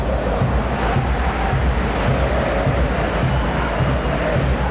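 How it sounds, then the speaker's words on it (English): A stadium crowd in the eFootball PES football video game at a Copa America match between Chile and Mexico, a loud, dense roar of cheering that holds steady and close throughout. "the crowd clearly liked what they just saw"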